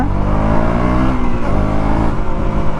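A KTM Duke 200 Gen3 motorcycle engine revs hard and accelerates close by, a steady loud roar that stays constant from start to end with no talking.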